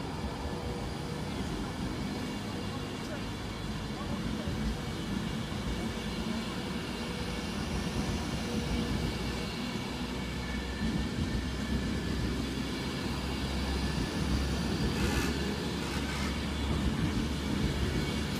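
Virgin Pendolino train passing through Stafford station, a loud continuous rumble and rush of the train going by, with faint voices underneath.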